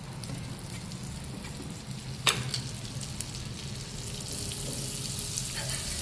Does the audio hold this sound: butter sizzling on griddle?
yes